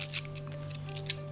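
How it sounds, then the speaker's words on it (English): Fiskars scissors snipping through photographs, a few quick, faint crisp cuts over a steady low hum, close by and without speech. "I just cut it up using this gorgeous Fiskars"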